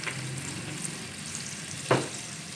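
Soaked chana dal sautéing in masala for a Punjabi-style lauki sabzi, a soft steady sizzle with one sharp clack of a spoon on the pan near the end and no voices.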